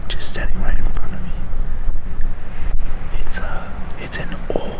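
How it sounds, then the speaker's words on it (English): Steady, loud wind buffeting the microphone on an Arizona hunting trip, roaring continuously with faint breathy sounds on top. "It is super, super windy."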